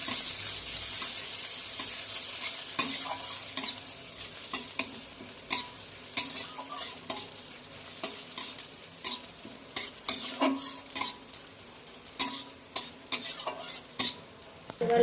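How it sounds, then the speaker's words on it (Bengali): Onion and bay leaf fry in oil while being stirred, with a steady close sizzle broken by frequent sharp spatula scrapes and knocks against the pan. The stirring comes in irregular bursts, and there are no voices. "তেল, তেজপাতা, পেঁয়াজ দিয়ে ভালো করে নেড়ে চেড়ে নিতে হবে।"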